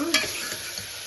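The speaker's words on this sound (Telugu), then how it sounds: "టమాటాలు మగ్గుతున్నాయి ఇప్పుడే" Onions and tomatoes cook in a pan for a ridge gourd and chana dal curry, giving a steady soft sizzle with a brief stirring scrape near the start and no talking.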